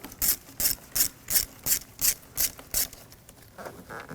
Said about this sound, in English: Using a 7mm socket, loosen up this clamp.